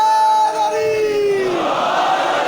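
A crowd at a live religious gathering in Jafria Colony, Lahore, roars a chanted slogan in unison, a loud sustained group shout with sliding pitch that fades into a wash of voices.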